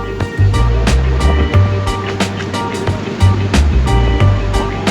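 Ocean waves at a river mouth on the Gulf of Guinea, a loud, continuous broadband surf wash with rhythmic surges and sharp bursts.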